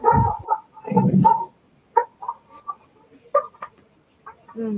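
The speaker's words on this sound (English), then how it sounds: "Wait, my dog is knocking." A dog at the door wanting to be let in gives a series of short, close whines and yelps broken by brief pauses.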